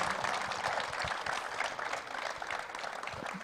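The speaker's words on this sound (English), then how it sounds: "please round of applause for Colonel Arvinder Singh" An audience at a Gujarat Titans jersey launch event claps in a steady, moderately distant round of applause that carries evenly throughout, with no clear speech over it.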